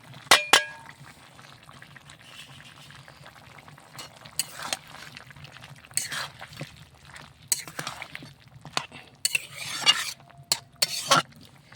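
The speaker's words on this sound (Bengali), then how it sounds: "তো মুরগির মাংস, পোলট্রি মুরগির মাংস, একটু টমেটো কুচি, ধনে পাতাটা দিয়ে দিই" Poultry chicken meat cooking with chopped tomato and coriander leaves in a pot, with loud metal clangs of a spoon against the pot at the start and repeated stirring scrapes and clinks over a quiet simmering bubble, close by, with no talking.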